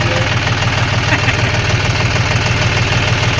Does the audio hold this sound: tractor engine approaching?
yes